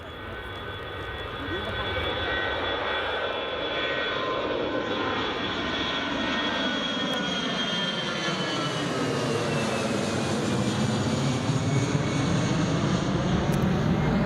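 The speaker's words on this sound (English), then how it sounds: "Final plane of the stream it is indeed, Ken." A jet airliner takes off from Newcastle Airport, its engine roar loud and sustained at first, then the pitch slowly shifts as the aircraft climbs away.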